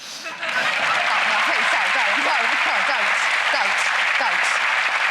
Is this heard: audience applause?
yes